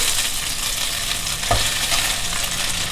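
A fish fillet sautés in a non-stick pan, giving a steady broadband sizzle with scraping and stirring throughout and one brief louder knock midway; no one speaks.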